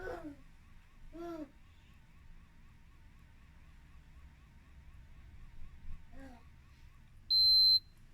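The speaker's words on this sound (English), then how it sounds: "it makes a different beeping noise, and it's saying dose done" A feeding pump gives a short electronic beep once near the end, signalling the dose is done, loud and steady, after a few soft vocal babbles over a quiet room hum.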